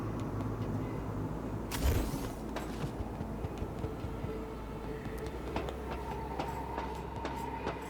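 A train runs through a city in the Cyberpunk 2077 Phantom Liberty video game, with a continuous heavy rumble, a louder surge early on and scattered metallic clicks and clacks along the track.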